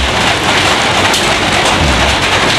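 Heavy rain pours outside, heard through an open ventilation window as a loud, dense, unbroken hiss and patter on surfaces.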